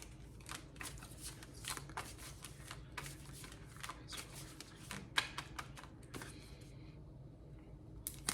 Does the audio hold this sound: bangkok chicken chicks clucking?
no